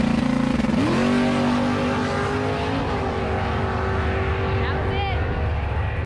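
A drag race car with a 4-link rear suspension makes a pass, its loud engine rising in pitch, then holding a steady high roar throughout, close and continuous with no talk over it.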